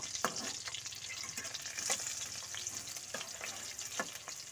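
Chopped onion and green chillies fry in about two spoons of white oil in a wok, a soft even crackle with scattered light clicks and scrapes of stirring throughout, no talking.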